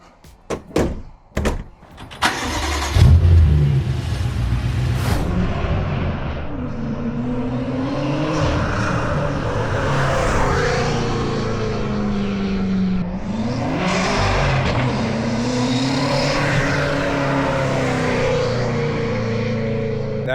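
An 800HP manual BMW M6 F06 fitted with front mount intakes pulls away after a few sharp door thunks, its engine rising and falling through loud revs that sustain for a long stretch.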